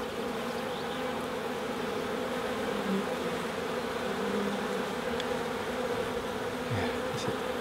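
Honeybees buzz steadily in an open hive during an inspection of frames of capped honey, a dense continuous drone close by with no talking.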